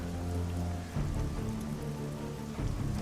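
Rain falls in the video game Marvel's Midnight Suns, a soft, steady patter on surfaces that stays fairly quiet, with low rumbling underneath and no talk.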